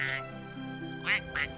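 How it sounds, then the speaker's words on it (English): A duck on a battlefield map in World of Tanks quacks several times in short, clear, nasal bursts, close and fairly loud, with a low steady hum underneath. "The duck."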